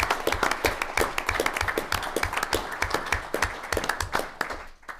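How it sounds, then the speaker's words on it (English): Scattered clapping from a small room of people at a board meeting, fairly close, with individual claps standing out in an uneven rhythm before tapering off. "Let's give them a round of applause."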